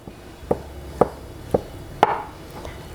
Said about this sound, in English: I'll have to cut up the strawberries pretty thin